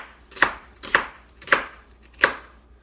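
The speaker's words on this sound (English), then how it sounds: "I like cutting it in the middle. Then I go the long way like so." A knife chops through an onion on a cutting board while making a chicken stir fry: four crisp, evenly spaced thunks, close and clear, with no talking.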